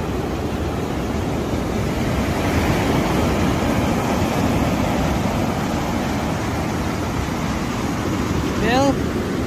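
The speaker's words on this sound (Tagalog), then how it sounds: "kita nyo yung lakas ng alon." Strong sea waves wash onto a beach after a typhoon, a steady broadband roar of surf with wind noise buffeting the microphone throughout, and a brief voice near the end.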